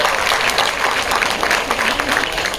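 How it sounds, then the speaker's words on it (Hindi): Loud, dense applause from a crowd at a mushaira and kavi sammelan poetry recital at JNU, a short burst of vigorous clapping with voices faintly mixed in. "आप सब लोगों के लिए एक बार खुद जोरदार तालियां बजाइए।"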